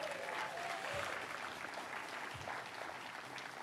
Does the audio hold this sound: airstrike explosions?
no